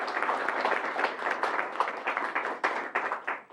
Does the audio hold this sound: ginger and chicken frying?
no